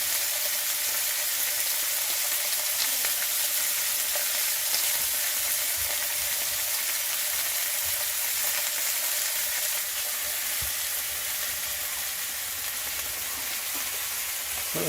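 Food frying on a meths burner gives a steady, even crackling sizzle that runs close and continuous throughout, with no voices over it.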